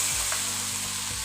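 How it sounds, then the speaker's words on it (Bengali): Cauliflower fries in oil with turmeric and salt, making a short, steady, even sizzle close by with no voices. "আমি ফুলকপিটা কিছুটা ফ্রাই করে নিব"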